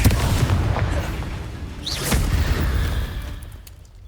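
A Confringo spell explosion in the video game Hogwarts Legacy: a loud, deep rumbling blast with a whooshing burst midway, fading out at the end.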